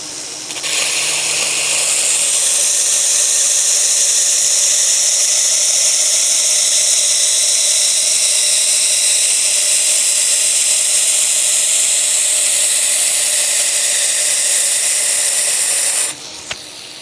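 Knife blade ground on a 2x72 belt grinder: a loud, steady, high abrasive hiss with the motor's whine, running continuously for about fifteen seconds before cutting off.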